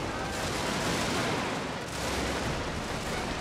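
Musket volley fire from massed infantry in a Total War battle, a dense continuous roar of overlapping shots with no single reports standing out, steady and loud throughout.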